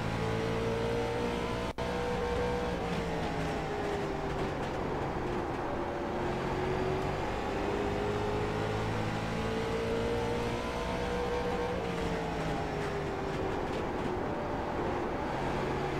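Late model race car engine in a short-track racing game, holding a loud, steady high-rpm drone near redline, with the pitch rising and falling slightly through the corners over sixteen seconds and a brief click near the start.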